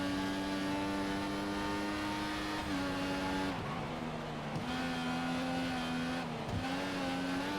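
Formula 1 race car engine screaming at full revs in the F1 2014 racing game, a loud continuous high-pitched whine with brief dips at gear shifts, steady and close with no talking.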